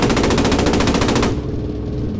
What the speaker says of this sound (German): Erstes MG-Magazin leer, lade nach, noch 300 Schuss.